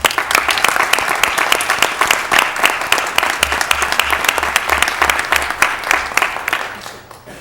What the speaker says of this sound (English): and they should be applauded